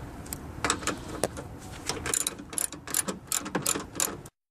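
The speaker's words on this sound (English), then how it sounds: "we're going to disconnect the negative battery terminal, and the wires going to it. And remove the bolt." Ratchet wrench loosening the negative battery terminal bolt on a car that won't start, giving rapid bursts of close, crisp clicking in uneven runs with brief pauses.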